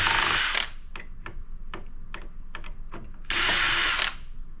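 A power drill backs screws out of a hard drive from telecom scrap. It starts with a loud, close whine, then comes a run of regular ratcheting clicks, and a second whine burst follows.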